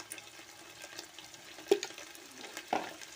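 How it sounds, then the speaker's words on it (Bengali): Soft stirring and gentle sizzling of spice masala frying with ginger, garlic and salt for beef bhuna, quiet and close with a couple of sharper spoon scrapes. "মশলাটা একটু কষায় নিই।"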